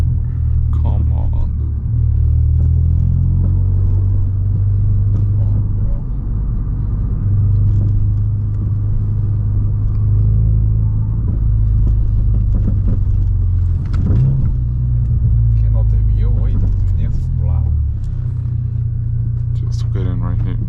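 Ford Focus RS heard from inside the cabin, a continuous low turbo and exhaust rumble droning loudly throughout, swelling and easing with throttle, with people talking over it.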